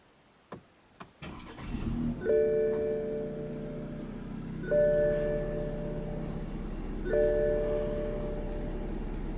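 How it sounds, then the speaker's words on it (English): A 2015 BMW 328i Luxury Line starts with its push-button ignition after a few soft clicks, then settles into a low, steady idle while a tonal chime repeats three times at even intervals. "Put your foot on the brake and hit the engine start button to start the engine."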